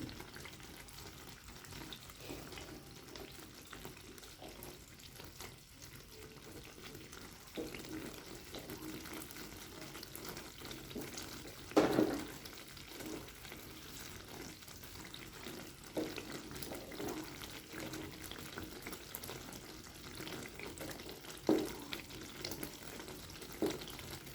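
Ghee bubbles and sizzles faintly in a pan, boiling over, a soft continuous frothy crackle with a few louder pops.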